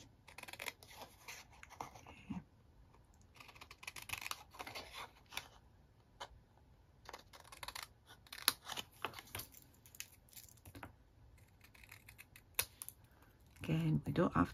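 Scissors snip around a paper-stamped image during card crafting, giving faint, close, irregular clicks and rustles with soft handling noise and a denser flurry of cuts at the end; someone speaks quietly in between.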